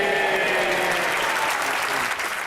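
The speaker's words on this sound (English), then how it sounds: "he was applauded, but look where the clapping comes from" Applause in the House of Commons, a dense burst of clapping from a crowd of MPs that carries on steadily for a couple of seconds before tapering slightly.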